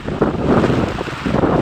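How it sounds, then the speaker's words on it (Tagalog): Strong typhoon wind buffets the microphone in loud, rumbling gusts with no voices, a rough continuous roar rising and falling. "malakas lang talaga ang hangin ngayon"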